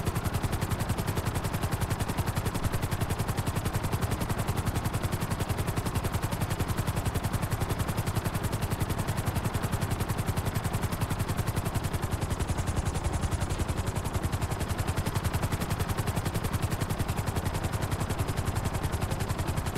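In a video game, a helicopter's continuous rotor thrum runs alongside rapid, sustained gunfire for about twenty seconds, loud, dense and unbroken, with no voices.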